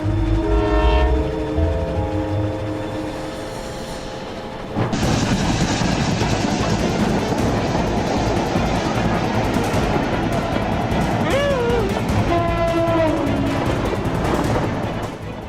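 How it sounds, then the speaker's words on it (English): A snowplow train's horn blares with steady tones, then a loud roaring rush of snow and machinery takes over, sustained and close, in Canada. "It's simply a snowplow train in Canada doing unbelievable work."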